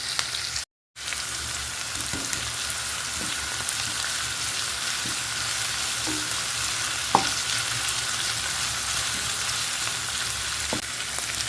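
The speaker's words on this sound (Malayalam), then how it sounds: "ആദ്യം നമുക്ക് ഇതൊന്ന് നന്നായിട്ട് വഴറ്റിയെടുക്കേണ്ടതുണ്ട് കേട്ടോ" Sliced onions and a large piece of ginger sauté in hot oil, keeping up a dense, even sizzle, close and steady, with occasional faint stirring taps. A momentary dropout comes near the start.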